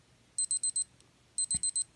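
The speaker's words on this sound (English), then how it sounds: "as our alarm goes off" A Casio G-Shock GG-1000 Mudmaster watch alarm sounds in two bursts of four quick, bright electronic beeps, close and clear against a quiet background.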